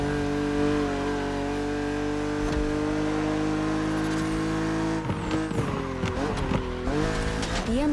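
A BMW Z roadster's engine drones steadily at high revs in The Crew Motorfest, racing an opponent, then dips and surges through gear changes and revs in the final seconds.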